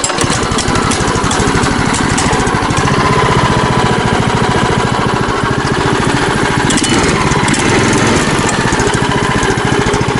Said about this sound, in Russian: Давайте запустим двигатель,